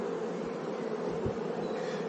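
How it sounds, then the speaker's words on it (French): Honey bees swarm over a hive frame, a dense, continuous close-up buzz from thousands of insects, steady and fairly soft with no voices. "sur chaque cadre, tu as à peu près 5000 abeilles"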